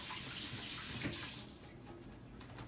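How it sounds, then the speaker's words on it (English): A tap runs steadily into a sink during handwashing in a home kitchen, a close, full rush of water that thins out partway through. "I'll wash my hands for 1 second just to open up this breadcrumbs"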